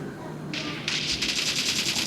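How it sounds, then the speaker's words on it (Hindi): A long burst of rapid automatic video game gunfire heard through OnePlus Bullets Wireless Z earphones, sharp and dense, kicking in after a brief short volley, loud and close with no talking. "तो मतलब थोड़ा लॉन्ग फायर करते हैं हम"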